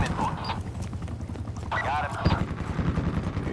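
Gunfire in Call of Duty: Black Ops 4 during a Specialist HQ skirmish, with clipped shots and rapid bursts under game effects, and a voice talking over parts of the action.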